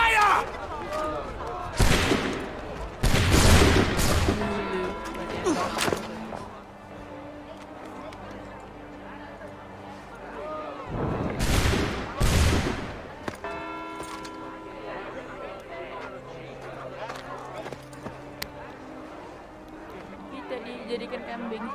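A musket volley erupts in Assassin's Creed III as a firing line discharges at once: two sharp bursts of loud, crackling shots a few seconds apart, ringing over game music and background commotion, with voices heard around them.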